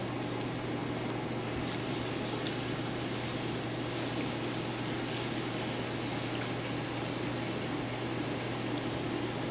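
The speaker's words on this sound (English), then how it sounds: "Pour me in a little more hot water, Josh." Hot water poured steadily over dried corn husks being soaked for tamales, a continuous close splashing hiss with an underlying low hum and no speech.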